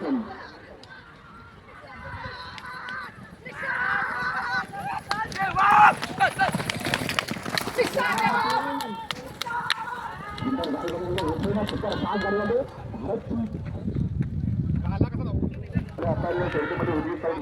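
Bulls pulling a bullock cart in a traditional race pound past with rapid, drumming hoofbeats, mostly buried under loud crowd shouting and excited voices.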